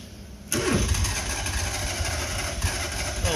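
An old French car's engine cranks and catches at close range, a loud burst of engine noise starting abruptly after a brief quiet moment and then running rough and steady, with a few surges in level.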